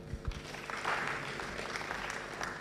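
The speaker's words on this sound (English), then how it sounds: "Please, let's clap for them." Audience applause at a performing arts conference, a dense patter of clapping hands that holds steady at moderate volume throughout.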